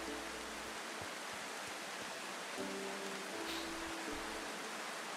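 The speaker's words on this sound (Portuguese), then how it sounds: "Vamos lá que eu não quero ficar nessa chuva aqui." Soft, steady rain hisses continuously in the video game The Final Station, a faint even wash of drops with low background tones underneath.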